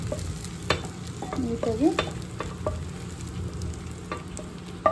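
Vegetable noodles are tossed and stirred in a hot pan, giving a steady sizzle broken by scraping utensil strokes and clinks, with a brief word spoken once.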